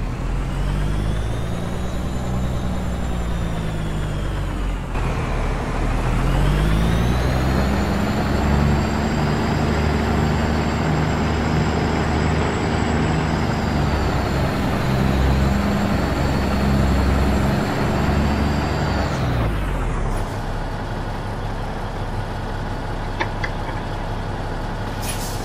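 A truck engine in American Truck Simulator drones loudly and continuously, rising in pitch through gears before an air brake hisses sharply and the engine settles into a lower rumble, with no talking.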